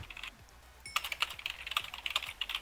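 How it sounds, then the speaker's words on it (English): Fast clicky keystrokes on a computer keyboard start after a brief quiet moment and run in a busy, uneven burst, close and crisp but at low level. "That keyboard, though."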